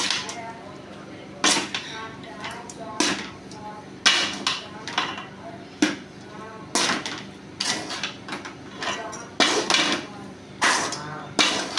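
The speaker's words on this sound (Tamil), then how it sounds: "இப்போ நம்ம நல்லா கிளறி விட்டுக்கலாம்" Spoon or spatula scraping and knocking against a pan as cooked rice is stirred into a bean and carrot stir-fry, a series of sharp, loud metallic strokes in an irregular rhythm, close up and alone.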